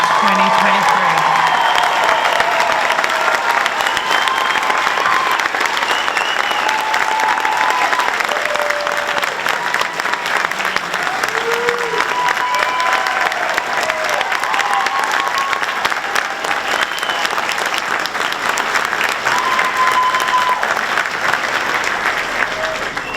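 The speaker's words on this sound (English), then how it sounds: "How about a round of applause for this graduating" A graduation ceremony crowd applauds the class of 2023, with sustained, dense clapping that fills the hall steadily and loudly from start to finish, cheering voices blending in underneath.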